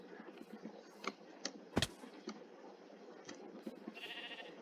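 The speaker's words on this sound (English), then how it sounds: "Oh, there's a sheep." A sheep bleats in the Animal Craft video game, short quiet calls over a low game background with small clicks.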